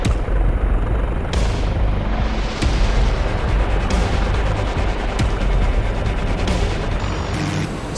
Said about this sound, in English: These 30mm cannons are awesome.